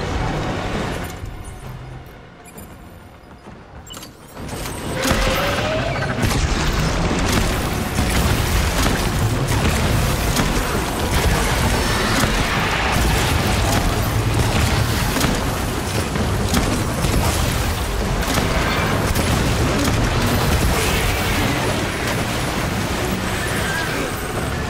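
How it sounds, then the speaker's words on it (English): A grenade launcher in the video game Death Stranding sets off a loud, sustained roar of explosions and rumbling blast noise after a quieter opening, filling the rest of the stretch with dense, continuous booming. "Now we're talking grenade launcher."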